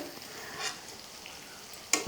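Soft, steady sizzle of paneer frying in oil, with a brief sharper clatter near the end.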